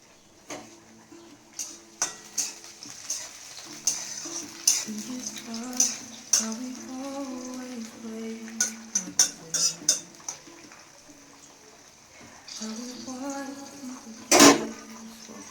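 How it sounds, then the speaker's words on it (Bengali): Spinach goes into a pan already holding coconut and green chilli and is stirred in, with close clinks and scrapes of a utensil against metal in irregular bursts and a soft crackle beneath. "এবার আমি শাকটা দিয়ে দেবো।"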